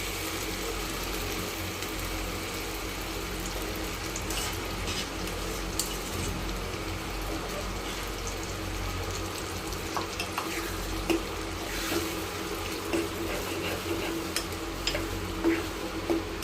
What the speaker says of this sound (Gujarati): હવે એમાં આપણે જે ટામેટાં ક્રશ કરીને નાખ્યા હતા તે નાખી દઈશું।